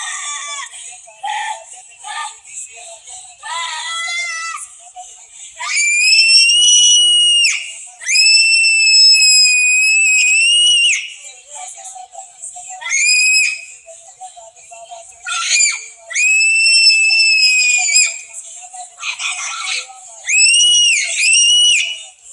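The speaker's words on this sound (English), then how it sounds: "As she begins to scream and act crazier, she is held down" A girl screams repeatedly while being held down, shrill piercing cries in long bursts separated by short gaps, loud and close, with background voices faintly audible between them.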